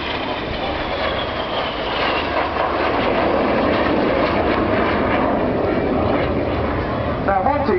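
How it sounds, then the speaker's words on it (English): Red Arrows synchro pair jets roar past in the Carousel manoeuvre at an air festival, a loud sustained rushing engine noise that sweeps across with a commentator talking over it. "They're going to pass just 35 meters from each other in a manoeuvre called the Carousel."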